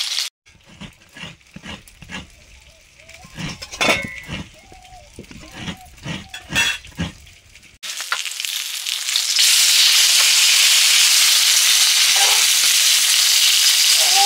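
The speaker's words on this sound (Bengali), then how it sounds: "মাছ ভাজা হয়ে গেছে।" Rohu fish fries in a pan. Intermittent clatter and voices come first, then a loud, continuous hiss of sizzling oil takes over.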